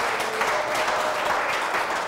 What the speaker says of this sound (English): You applaud that way.